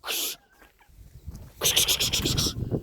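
Chickens and a rooster in a snowy farmyard give a harsh squawk, then a burst of agitated clucking and crowing calls. The birds sound fairly near, with faint voices and quiet gaps between the calls.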